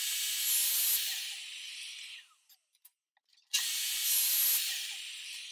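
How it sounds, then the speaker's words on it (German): Miter saw cutting metal rails into 30 cm pieces: two loud, close, high-pitched grinding whines, each fading off as the blade spins down, with a brief quiet gap and small clicks between the cuts. "So, ich habe mir jetzt die Kappsäge eingestellt."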